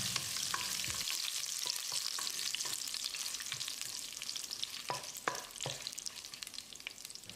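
Steady frying sizzle of chillies and curry leaves in a pan with intermittent scraping clicks of a spoon stirring, no voices.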